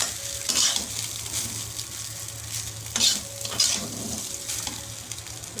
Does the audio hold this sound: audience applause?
no